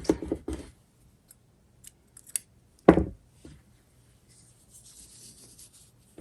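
Scissors snip through crochet yarn at close range, with a quick cut at the start, a louder snip near the middle, and light handling rustles in between.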